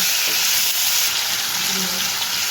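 Tomato pieces with turmeric sizzle steadily in a hot pan, a continuous close frying hiss with faint stirring scrapes and no talking.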